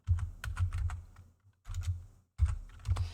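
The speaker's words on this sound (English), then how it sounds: "Yes, my keyboard is noisy." Rapid clattering keystrokes come in three bursts separated by short pauses, loud and close, the clicks sharp and noisy.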